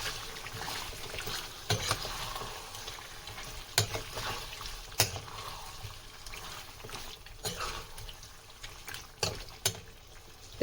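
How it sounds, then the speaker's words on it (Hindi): Chicken being stirred with spices in a karahi over a flame, a steady sizzle and wet frying hiss with periodic scraping clacks of a spoon against the pan, close and moderately quiet, no talk. "अब इन मसालों को हम अच्छे से चिकन में मिक्स करेंगे"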